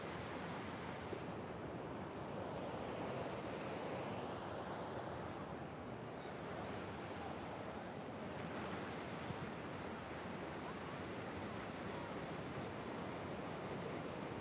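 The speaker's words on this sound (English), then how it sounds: "See if once again you can just tune back into the sound of the ocean." Ocean waves at an oceanfront beach in San Diego wash in a steady, continuous roar, with a light breeze rustling across the microphone.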